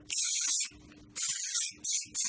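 A lithium coating is sprayed heavily onto a lathe in three short, close, loud hissing bursts separated by brief pauses.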